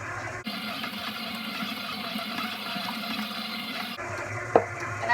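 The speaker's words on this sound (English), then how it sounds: "I'm going to gradually pour in my warm water and my olive oil" Warm water and olive oil pouring into a stand mixer bowl with a biga for ciabatta dough, a steady splashing trickle running continuously for several seconds, with a small clink near the end.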